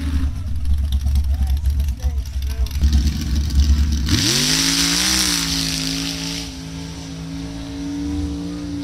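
A mega truck's engine revs up loudly at a drag strip at night, climbing into a sustained roaring whine that holds for several seconds after a stretch of rumbling idle and crowd noise.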